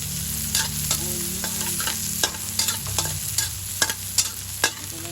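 Pork hock (pata) frying in hot oil makes a loud, close, steady sizzle, punctuated by sharp crackles and spatters.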